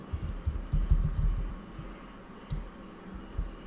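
Typing on a computer keyboard at a desk, a loose run of quiet clicking keystrokes in short bursts, with a few brief pauses between them and no talking.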